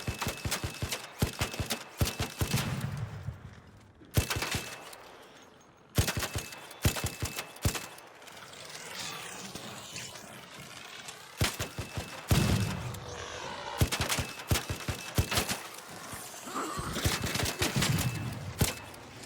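Repeated bursts of rapid gunfire from the Bettina weapon in the video game ARC Raiders, sharp rattling volleys separated by short pauses, loud and close throughout.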